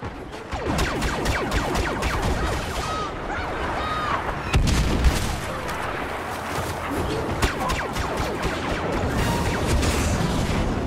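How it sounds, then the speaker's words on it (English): A walker explodes during a Star Wars Battlefront battle, heavy booming blasts and crackling gunfire rolling continuously through a dense, loud game soundscape with a strong thump near the middle. "The walker is exploding."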